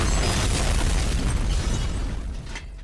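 A cartoon self-destruct explosion from a coin-operated self-destruct device goes off as one loud, sustained blast with a roaring rumble that fades slowly near the end, heard alone with no talk.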